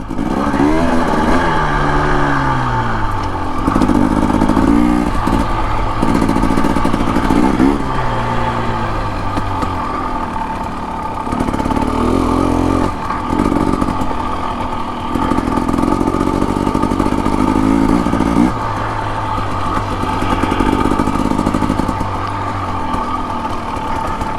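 A Husqvarna TE300 two-stroke dirt bike ridden along a single track trail, its engine revving and dropping repeatedly as the rider works the throttle, loud and close throughout.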